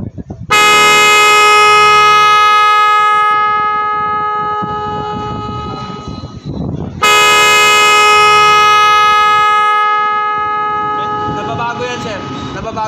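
Two long, sustained electronic horn tones from a Magic18 digital car horn under demo, with rich harmonic stacks, each lasting several seconds, loud and close, with a short gap between them.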